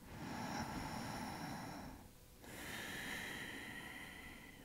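Breath drawn in during a beginner yoga pose comes as a long, close airy inhale, a brief pause, then another rushing breath over a faint steady hiss.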